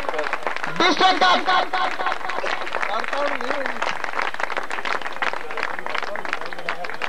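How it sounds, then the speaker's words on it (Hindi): Audience at a prize ceremony for a district cup breaks into applause, a steady crackle of many hands that carries on under an announcer speaking over it. "बहुत तालियां,"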